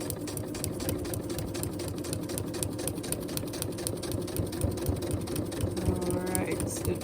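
A sewing machine stitches a foundation paper-pieced quilt block in a steady mechanical whir with fast, regular needle ticks, with a voice briefly audible near the end.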